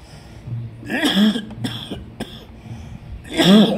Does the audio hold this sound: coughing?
yes